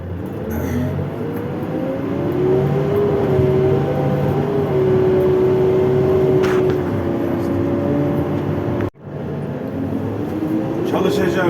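A Hidromek backhoe loader with automatic transmission runs steadily and loudly close by while spreading soil at a building site, its drone broken by one brief dropout near the end.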